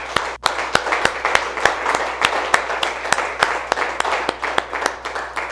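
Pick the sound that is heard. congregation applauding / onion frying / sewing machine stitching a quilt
congregation applauding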